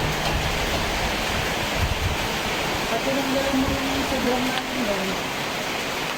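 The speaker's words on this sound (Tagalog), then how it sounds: "Medyo lumalakas-lakas na yung ulan." Steady, dense rain roaring without letup, a broad wash of noise filling the whole clip, with faint low tones drifting through midway.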